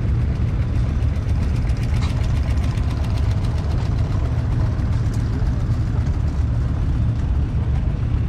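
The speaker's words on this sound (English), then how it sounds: "Featured tractor of the year is" Engine of an International tractor idling at a steam show, a loud, close, steady low rumble with a continuous rough chug and no talking.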